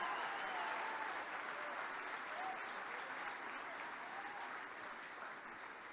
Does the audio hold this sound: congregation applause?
yes